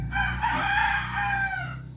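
A rooster crows loudly and close by in one long, drawn-out call lasting about two seconds.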